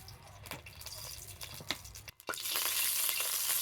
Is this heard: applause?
no